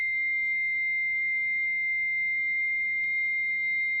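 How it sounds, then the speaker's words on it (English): A piercing, steady high-pitched keen rings out in an audio drama during an orca attack scene. The tone holds unbroken and loud, with no speech over it. "Just as the orca's fangs graze my head, I hear a keen sound reverberate."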